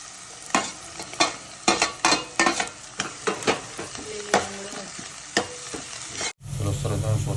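Vegetables with coriander sauté in a pan, a steady sizzle cut by a dozen rhythmic scraping stir strokes, then a louder, continuous frying hiss near the end.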